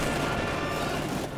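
Battle noise in the Company of Heroes 2 strategy game, a steady, dense roar of gunfire and explosions with no single blast standing out, fairly loud throughout.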